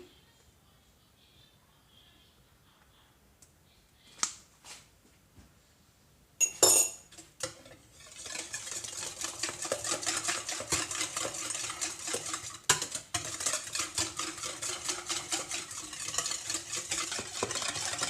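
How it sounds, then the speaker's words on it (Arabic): Brownie cheesecake batter is whisked in a bowl. A few quiet clinks come first, then continuous, rhythmic scraping and tapping of the whisk against the bowl, fairly close and steady. "نخفقهم مزيان"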